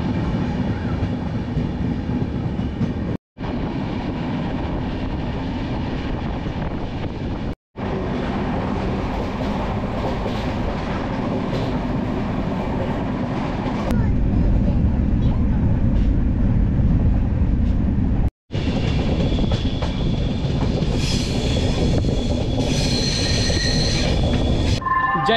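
A Chandigarh–Amritsar Superfast Express heard from on board while standing at the station with its generator car not yet running, a loud constant low rumble and hiss with a few abrupt cutoffs and some brighter metallic tones late on.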